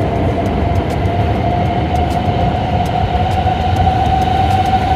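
A new Hanoi metro subway train running, heard from inside as a steady loud rumble with a sustained whine and faint regular clicks from the wheels, continuous throughout with no talking.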